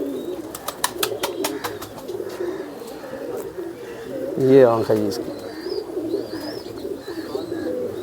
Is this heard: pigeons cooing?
yes